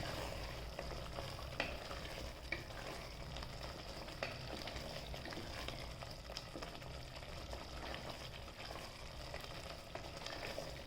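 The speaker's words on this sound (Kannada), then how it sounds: "ಇವಾಗ ಚಿಕನ್ ಬೇಯ್ತಾ ಇದೆ. ಅಗೇನ್ ಸ್ವಲ್ಪ ನಾವು ಮಿಕ್ಸ್ ಮಾಡಬೇಕು." Chicken frying in a pan while being stirred, a steady loud sizzle with scraping stir strokes and small sharp ticks running throughout, close and without talk.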